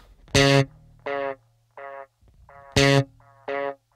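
Electric bass run through a Walrus Audio Arp 87 ambient delay pedal with the low end cut thin: five sustained harmonic notes, each followed by a fainter delayed repeat, with short gaps between, close and fairly loud.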